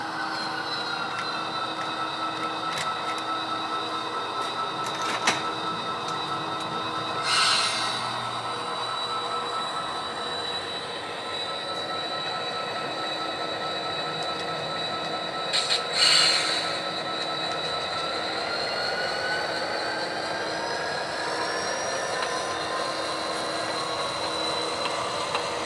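Freight train pulling cars during switching, with a steady rolling rumble, high drawn-out wheel squeals, and a couple of brief metallic clanks, continuous and fairly close.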